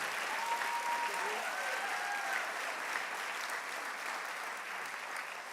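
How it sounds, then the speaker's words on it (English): Sustained applause from a school athletic awards audience honoring coaches, players and teams, a broad, even wash of clapping that fades slightly at the end while an announcer's voice carries over it. "how about one more round of applause for everyone, our coaches,"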